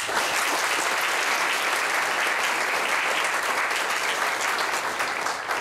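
Steady, loud applause from an audience at a university alumni spring reunion, dense clapping that holds evenly throughout with no break or fade.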